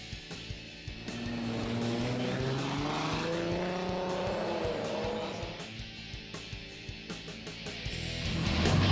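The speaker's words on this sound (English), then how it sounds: "the race begins with both cars approaching the start and the same speed when the signal is given" Race cars roll up to the start line of a Texas 2K drag race, engines droning and revving loudly up close, with the roar swelling at the end.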